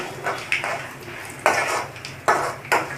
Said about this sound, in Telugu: ఇప్పుడు దీంట్లో కొద్దిగా పల్లీలు వేసుకుందాం.